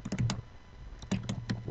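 Keys on a computer keyboard are tapped in two quick clusters of clicks separated by a short pause, close and moderately quiet, with no talking.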